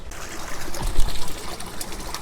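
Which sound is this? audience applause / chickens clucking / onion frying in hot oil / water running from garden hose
water running from garden hose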